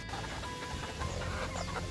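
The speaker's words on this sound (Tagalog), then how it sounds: "painumin na po natin yung aking alagang mga manok sa loob ng ranging area" Four-month-old pet chickens clucking in their ranging area while being given water, with soft, faint scattered clucks over a steady low background hum.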